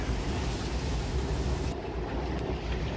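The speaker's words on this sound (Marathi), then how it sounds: "आज तुम्ही बघू शकता पाऊसच नाही पण त्याच्यासोबत वारा पण भरपूर आहे" Dense, roaring wash of wind and rain, loud and continuous for a few seconds, buffeting the microphone with no voices present.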